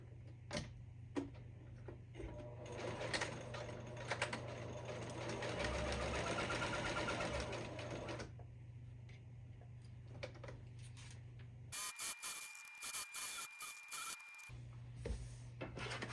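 Sewing machine stitching fabric for holiday decor, a steady rapid mechanical whir running for several seconds, pausing, then a short second burst of stitching, close and alone without talk.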